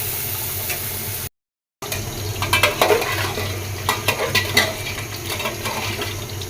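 Small pieces of rohu fish fry lightly in a pan, giving a soft sizzle with clinks and scrapes of a utensil against the pan after a brief silent cut.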